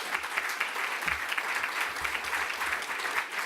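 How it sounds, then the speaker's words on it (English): An audience applauds and cheers for the speakers at an event in the Scottish Parliament, steady dense clapping throughout, close and sustained. "a big cheer for all our speakers"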